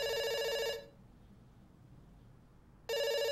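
An electronic telephone ring in a video game sounds loudly for under a second, falls silent for about two seconds, then rings again at the end.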